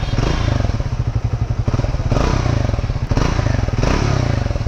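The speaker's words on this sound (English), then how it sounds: "exhaust has a good pretty thump to it" A Triumph Speed 400 motorcycle idles in neutral just after a first start, its exhaust giving a steady, bassy, rapid thumping pulse that stays loud and close throughout with no voices.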